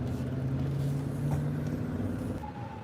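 Heavy traffic rumbles at a city intersection, a steady low drone of many vehicles idling and passing nearby, with a faint higher tone near the end.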